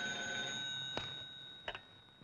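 A cartoon telephone rings with a steady bright electric bell tone, joined by a few sharp clicks, at moderate loudness with no voices.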